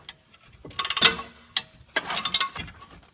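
Two bursts of quick ratchet clicks from a wrench tightening the 24 mm and 21 mm front strut bolts on a Ford Mustang, close and crisp, with metallic handling between them.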